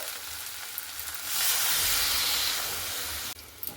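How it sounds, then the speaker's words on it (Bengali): Water poured into a pan of sizzling fried chicken masala with potatoes sets off a sudden loud hiss and burst of steam that swells, holds for about two seconds, then cuts off sharply, followed by a few faint clinks. "তো এরপরে আমি এখানে দিয়ে দিচ্ছি জল।"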